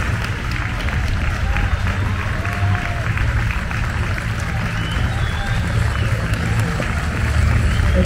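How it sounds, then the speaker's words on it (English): At the Florida Horse Park, a crowd at a horse show applauds the winning entry: a broad, continuous wash of clapping and crowd noise that runs the whole time. "Give her a nice round of applause for your winning entry"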